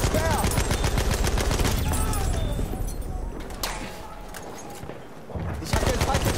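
Battlefield 1 gunfire, a dense rapid barrage of shots and bursts up close, fading into sparser cracks and booms midway before the firing picks back up, with voices talking over it.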